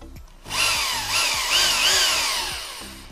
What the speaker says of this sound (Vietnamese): Rồi, chuyển qua dân khoan thường.